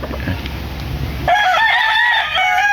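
A Sweater bloodline gamefowl rooster lets out a loud, close crow that starts partway in and holds to the end, following a brief stretch of quieter background noise.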